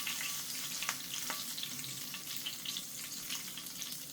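Chicken fried steak frying in hot oil, a steady bright sizzle with occasional sharp pops and spits, close and continuous without talk.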